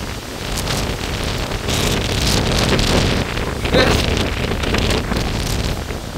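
Powerful storm wind buffets the microphone in continuous loud surges, swelling and easing over several seconds with no clear speech.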